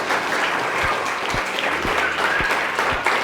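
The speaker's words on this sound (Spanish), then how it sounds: "¿Por qué no le da un aplauso al Señor?" Congregation in a church at a Christmas service breaking into applause, a steady roomful of clapping with a few low thumps underneath, fairly loud and continuous without talk.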